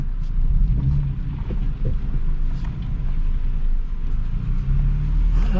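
A Nissan Frontier pickup converted to a solid front axle cruises along a road, its engine a steady low rumble with road and wind noise, loud and close inside the cab, no talk.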